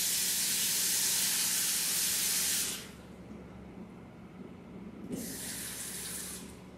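Water runs steadily from a tap for a few seconds, stops, then gushes again after a short quiet gap.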